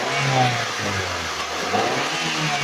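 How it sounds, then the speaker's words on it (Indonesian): A 2014 Daihatsu Granmax 1.3 blind van engine revs up from idle, a loud close mechanical drone rising and falling in pitch as the throttle is raised and eased. "Coba sedikit kita naikkan RPM"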